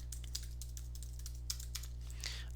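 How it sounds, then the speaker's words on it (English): Someone types variable names on a computer keyboard, a quick run of soft, uneven key clicks over a steady low electrical hum. "I enjoy typing variable names that are meaningful"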